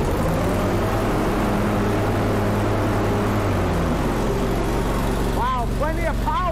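A Kohler CH25S twin-cylinder engine on a Grasshopper zero-turn mower runs with a loud, close, throbbing drone. It shifts pitch partway through as the throttle changes, and a voice is heard over it.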